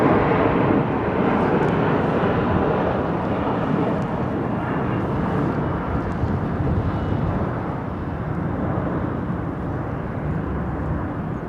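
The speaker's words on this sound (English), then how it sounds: "That Air India 777 going, is it switching taxiways?" Air India Boeing 777 taxiing at London Heathrow Airport: a steady, broad jet engine roar with wind buffeting, constant and moderately loud throughout, with no voices.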